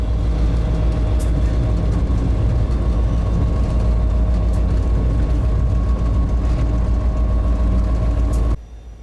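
Steady, loud diesel engine drone of an EMD SD50 locomotive heard from the cab, a deep low rumble and constant hum, continuous throughout before dropping off abruptly near the end.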